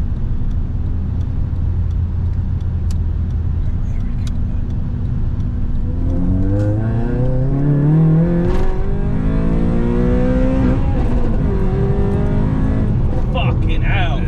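A car on a dyno power run revs hard and accelerates through the gears, the loud engine note rising in pitch steadily and continuously over a steady roar, close and sustained, with voices talking over it.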